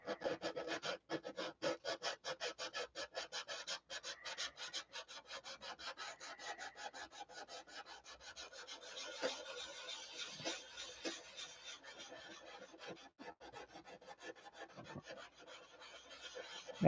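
Hand sanding on a balsa model airplane float, quick rhythmic rasping strokes repeated back and forth close up, steady and fairly quiet with no talk.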